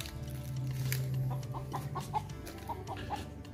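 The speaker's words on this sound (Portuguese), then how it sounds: "Ficou só uma galinha aqui." A lone hen on a small rural farm clucks softly in a short series of quiet, evenly spaced calls over a low steady background hum.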